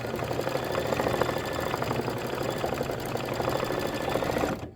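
An embroidery sewing machine stitching in a steady, fast mechanical chatter with a motor hum, ending in an abrupt stop as the thread is cut; close and loud, with no talking.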